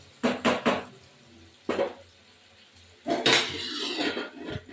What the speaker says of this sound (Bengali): এবার আমি ঢেকে দেবো